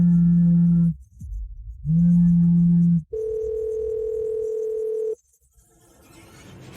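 An unanswered telephone call tone repeats as long steady beeps, one pitch twice and then a higher one, loud and clear, followed by faint room noise.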